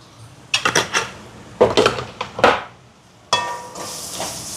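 A spoon scraping and clinking in a bowl while pepper powder is mixed into a spiced potato filling for Sri Lankan veg buns, coming as several bursts of close metallic clatter and stirring with pauses between.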